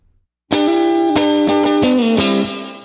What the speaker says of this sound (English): Here's a cool setting for a plate reverb.